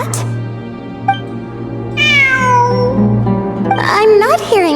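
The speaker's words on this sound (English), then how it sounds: "It really is a cat." A cat meows in a video game, several drawn-out, wavering calls rising and falling over a steady low musical drone, close and clear, with a second burst of meowing near the end.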